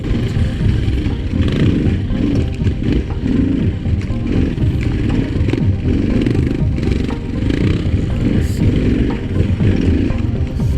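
An adventure motorcycle rides off-road over rocks with a loud, steady engine drone and rumbling, with knocks and clatter from the rough ground throughout.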